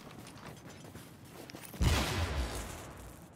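An EMP grenade goes off in the Division, a sudden loud burst partway through with a bright crackling wash that trails off over the following second amid faint background game noise.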